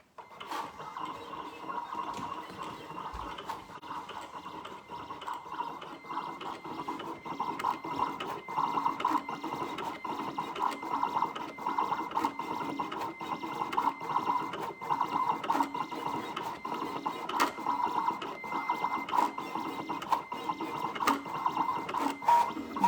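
A Siser Juliet vinyl cutting machine at work, heard up close as a steady whirring, buzzing hum with a light repeated ticking and mechanical clicks as the blade carriage moves, continuous and fairly quiet with no talking.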